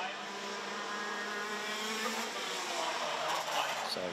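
DD2 racing karts circle the Wittgenborn circuit at an RMC Germany race, their engines a steady, distant droning roar that never lets up, with a commentator talking over it.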